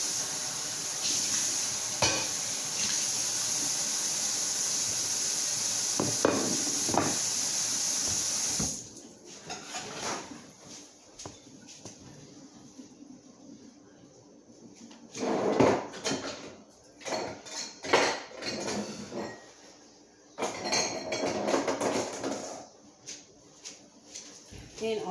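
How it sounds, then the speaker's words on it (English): Plates being rinsed under a running kitchen tap in a home kitchen, a steady rush of water for several seconds, then clinks and handling clatter of dishes in bursts with quieter gaps. "I'm just grabbing some plates and rinsing them off."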